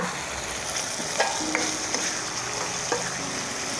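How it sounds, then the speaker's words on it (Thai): Eggplant stir-fried with red curry paste and canned fish sizzles steadily in a pan, with several light clicks and scrapes from stirring, close and even throughout. "ผัดทุกอย่างให้เข้ากันนะคะ"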